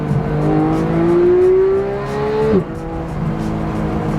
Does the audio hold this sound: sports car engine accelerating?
yes